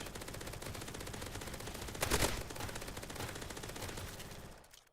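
Rapid automatic gunfire rattles steadily at a mega brute in the zombie shooter Zombie Rush Survival, a dense, continuous stream of shots that swells briefly midway, then cuts off at the end.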